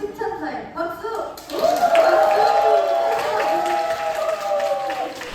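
An audience claps and cheers at a K-pop music show backstage celebration, a dense, loud crowd swell that kicks in abruptly and holds steady, with a voice heard over the start.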